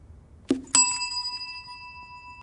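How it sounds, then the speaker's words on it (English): A bell struck by hand in a reaction-time test, a soft tap followed by one bright ding that rings on and slowly fades, alone in a quiet room. "As soon as I release the ball, Jamie is going to hit the bell"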